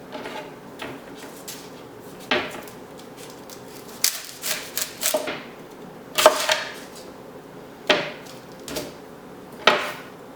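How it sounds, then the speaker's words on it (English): A knife dices a yellow onion on a cutting board, giving a series of irregular sharp chops and taps with quiet scraping between them, close and moderately loud. "this is just regular old yellow onion and we're gonna dice it."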